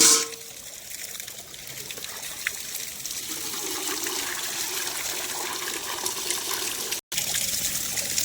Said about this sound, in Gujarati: જો ગાઈસ બોર ચાલુ છે અને કેટલું બધું પાણી આવે છે